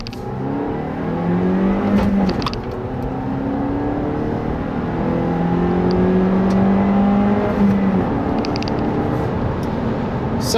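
A 2017 Toyota Corolla SE with a six-speed manual pulls away on the road, its engine rising and falling through gear changes as a steady hum runs under road noise.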